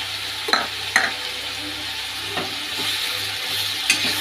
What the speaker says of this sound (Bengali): একটু নাড়বো, ভালো করে মিক্স করবো